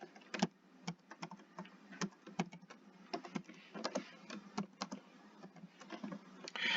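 Steady typing on a computer keyboard, a close, quick run of uneven key clicks and taps with no voices.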